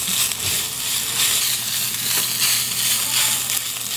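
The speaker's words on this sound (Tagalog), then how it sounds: "So continuously haluin natin hanggang well blended na po siya." Ground beef sizzling and frying in a pan while being stirred, a steady crackling hiss with scraping stir sounds, close and loud with no voices.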